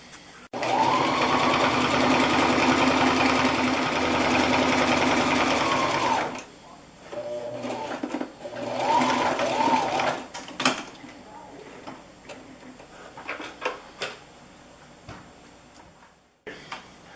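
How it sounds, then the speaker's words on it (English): A sewing machine stitches a second row of seam around a small leather pouch, running loud and steady for about six seconds, then giving shorter bursts and faint mechanical ticks as the fabric is repositioned. "I'm going to make that 2nd stitch all the way around now."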